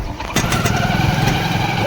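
A motorcycle engine cranks and catches about a third of the way in, then settles into a steady, close, rumbling idle with no talking.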